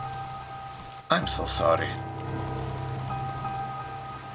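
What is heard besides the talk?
rain falling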